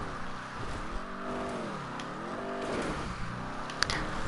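A stunt car drifting in GTA 5 Online: the engine rises and falls in pitch through steady revving and gear changes, close and continuous, with a faint tyre scrape near the end.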